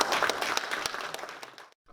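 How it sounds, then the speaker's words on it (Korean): An audience at an indoor lecture event gives warm applause to welcome a speaker, moderately loud crowd clapping that fades and stops just before the end. "큰 박수로 환영해 주시면 감사합니다."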